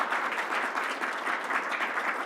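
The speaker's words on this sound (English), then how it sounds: "So let's give a round of applause to our County Executive Bello." Audience applause at a governor's announcement event, steady and dense clapping from a sizable crowd throughout, fairly close and even in loudness with no break.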